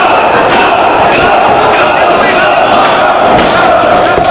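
A dense wrestling crowd at a 2004 ROH title match roars and cheers continuously and loudly, a close, sustained wall of voices with occasional louder swells.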